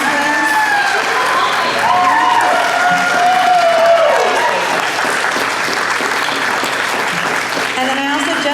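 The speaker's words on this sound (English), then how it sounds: "Can we get a round of applause for these amazing panelists?" A large crowd applauding panelists at San Diego Comic Con, loud and sustained clapping with some cheering mixed in, while a voice speaks over the applause near the start.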